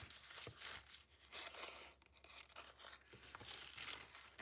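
A damp paper napkin is drawn apart along a wet line, giving soft, quiet tearing and crinkling in slow repeated pulls, faint and close with no voices.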